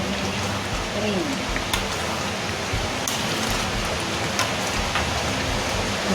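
Steady rain falling outdoors, a dense continuous hiss with scattered drops and occasional louder taps, close and even in level throughout, alone without speech.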